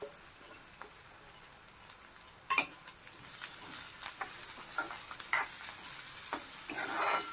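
Garlic and green chili fry quietly in oil in a pan for a snake gourd bhaji, a soft sizzle with a sharp clank of the spoon partway through and repeated light stirring scrapes.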